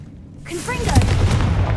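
A Confringo blasting spell goes off in a video game during a fight with spiders, a deep booming blast rising over a low rumble and lingering briefly at close range.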